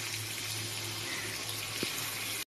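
Water pours steadily into a pot of chicken curry, a continuous close rushing splash that stops abruptly at the end.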